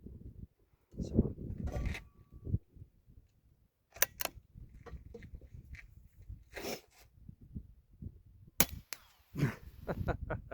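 A tiny short rifle fires several sharp, crisp shots spaced a few seconds apart, each a quick snap with brief handling noise between, following a comparison with a suppressed Savage B22 .22 rifle.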